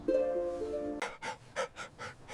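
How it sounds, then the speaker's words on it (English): A Border Collie pants heavily in a quiet, empty room, a steady series of about six breathy rasping pants following a brief tonal sound, close and fairly soft. "The sound of his heavy panting echoed against the quiet, empty walls."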